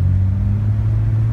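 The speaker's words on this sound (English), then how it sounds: "The exhaust that we put on here gives the vehicle a nice tone." Steady low engine rumble from the aftermarket exhaust of a Stage 2 Jeep Cherokee XJ while driving, a deep droning tone holding evenly throughout without pauses.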